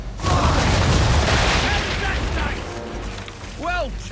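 Cannon broadside fire from a sailing warship in Assassin's Creed, a dense run of loud booming blasts rolling over one another, with a voice speaking underneath.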